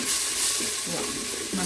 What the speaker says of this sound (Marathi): अर्धा चमचा हळद, चिमूटभर हिंग तेलामध्ये परतून घेऊया